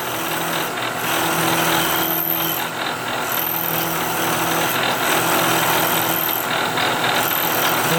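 Milling machine taking a fine cut on a steel scope ring for a Browning A-Bolt 3 rifle, a steady continuous grinding whir with rattling chatter, loud and close throughout with no talk.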